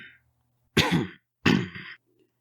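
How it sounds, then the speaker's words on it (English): Two short, rough coughs close by, separated by a brief pause, with near silence around them. "He coughs again."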